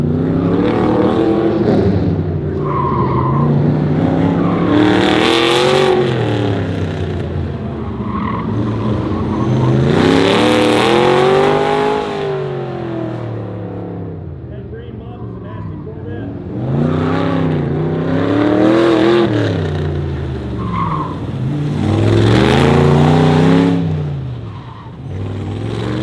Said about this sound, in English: a 1968 Corvette autocross car